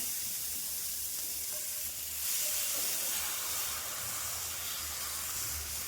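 Puchka puris sizzle in hot frying oil, giving a steady close hiss that swells slightly partway through. No voices.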